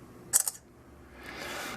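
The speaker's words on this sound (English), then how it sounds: "the shutter release is generally pretty quick if we can get it to focus" Samsung Galaxy S5 phone camera firing its shutter release: a quick pair of crisp synthetic clicks, close and clear, followed by a soft rising hiss of room noise.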